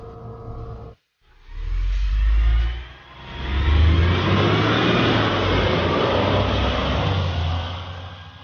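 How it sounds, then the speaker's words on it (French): A Griffon armored vehicle's 400-horsepower engine roars and revs up loudly, dips briefly, then climbs again into a sustained, strong acceleration. "Le moteur est un moteur de 400 chevaux qui pousse bien"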